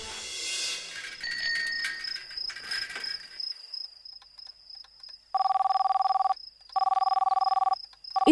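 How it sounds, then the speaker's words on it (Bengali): A telephone ringing in two electronic trill bursts late on, preceded by a steady high insect-like tone and scattered soft household noise. "এ তো সুলতার স্বামী অমলের ফোন"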